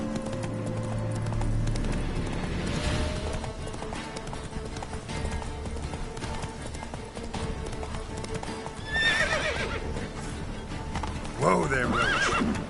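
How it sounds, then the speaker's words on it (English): A horse in the video game The Witcher 3 clip-clops at speed and gives whinnying neighs near the end, with a voice calling out over the hoofbeats. "Whoa there, Roach"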